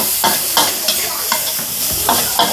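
Chili and garlic stir-fried in hot oil in a wok for a pork belly and shrimp paste dish, with a steady, loud sizzle broken by rhythmic scraping strokes of the spatula.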